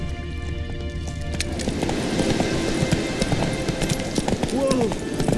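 Roach, a horse in The Witcher 3, trotting with a steady clip-clop of hooves, close and clear, while a voice speaks over it.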